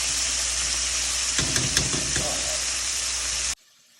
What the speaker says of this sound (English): while the chicken is frying